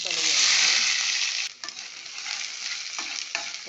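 Onions frying in a few spoons of oil in a pan for a drumstick and tomato curry, a loud steady sizzle that drops sharply partway through and continues softer, with a few scrapes of stirring.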